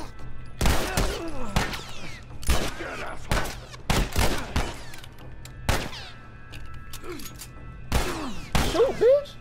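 Gunfire from the video game The Last of Us, a series of loud, sharp shots in irregular bursts with ringing tails and occasional clattering impacts, while a player talks over it.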